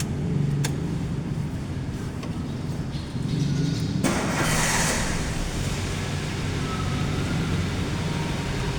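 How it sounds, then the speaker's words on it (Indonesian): A fuel-injected 2010 Toyota Avanza engine turns over and catches around the midpoint, then settles into a steady, fairly loud idle after a background of low hum and a few clicks. "kita coba nyalakan mesinnya lagi, apakah masih terdapat trouble ataupun sudah tidak ada"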